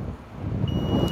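A 2022 Honda Passport TrailSport's power liftgate, opened by key fob, gives a single steady electronic beep partway through, against gusting outdoor wind.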